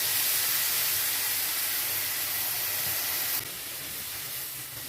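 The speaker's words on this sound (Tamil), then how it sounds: "இப்போ நம்ம தேங்காய் பால் ஊற்றிக்குவோம்" Coconut milk goes into a hot pan of avarekai beans, setting off a steady sizzling hiss that drops a little in level partway through and keeps bubbling quietly, close up with no talk.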